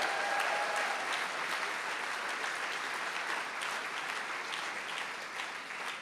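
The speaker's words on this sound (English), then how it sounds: "Can we give him a round of applause?" An audience at a civil liberties centre launch gives a sustained round of applause, dense and even throughout, with no speech over the clapping.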